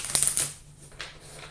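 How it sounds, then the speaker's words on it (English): Cards being riffled and bridged, a quick flurry of crisp papery flutters near the mic, then a softer shuffle trailing off. "Shuffle this back in."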